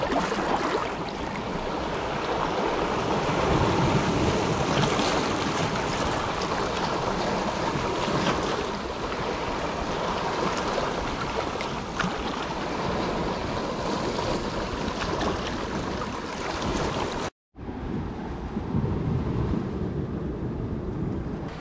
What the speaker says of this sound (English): the tide's rushing in now